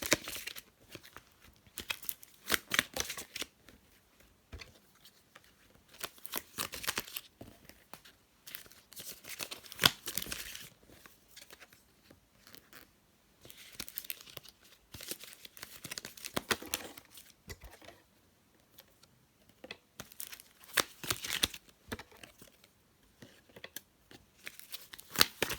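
Tarot cards being shuffled and flipped out of a deck, bursts of papery riffling and slapping that come and go with short quiet gaps, close up and fairly soft, with no voices.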